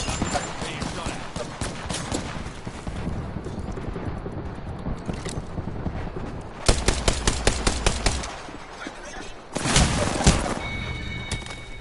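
Apex Legends gunfire crackles in rapid bursts, sharp automatic volleys and single shots piling up at close range, with a quieter stretch between bursts and some talk underneath.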